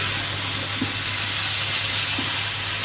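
Tilapia fish fry in a pan with a steady, close hiss of sizzling oil that holds even throughout, with no talking.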